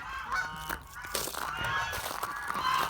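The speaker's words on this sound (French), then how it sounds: "Donc on a aussi derrière les oies du Siam." Siam geese on a snowy poultry farm honk repeatedly in overlapping, nasal calls at close range. The bursts are loud and sustained, with no talking.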